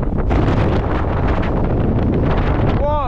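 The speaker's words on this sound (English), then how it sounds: "It's going to be windy and cold up here." Strong wind on a hilltop during a trail race buffets the microphone in loud, continuous low rumbling gusts for a few seconds, with no voices.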